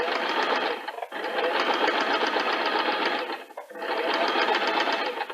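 Sewing machine stitching fabric in three steady, continuous runs, separated by two brief pauses, close and fairly loud with no talking.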